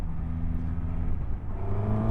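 A 2024 Suzuki GSX-S1000GX motorcycle engine drones steadily under load on a road ride, a continuous low mechanical hum with rising tonal whine and wind rush, close and constant.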